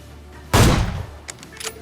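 A single loud gunshot burst in a mobile battle game, sharp and close, followed by a few faint quieter clicks and shots.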